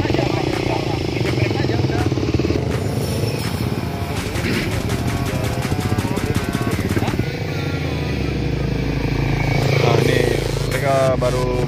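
Raider 300 motorcycles run a freestyle practice session in Banten, with engines revving and idling loudly and continuously while people talk over them.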